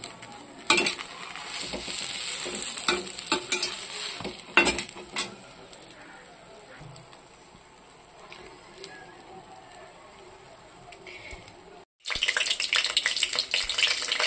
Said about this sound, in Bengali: আমি এবার এখানে বিনস আলুটাও ভেজে নেবো